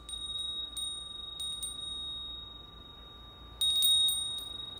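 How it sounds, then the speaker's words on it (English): Small bells used for sound healing ring in three separate bursts, each bright and clear with a lingering shimmer, against a quiet room with a steady faint hum. "So you can also use little things like bells."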